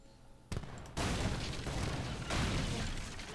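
Booming cannon fire from a strategy video game, a burst at half a second followed by a denser barrage of explosive blasts that keeps rumbling loud through the rest of the moment, with no talking.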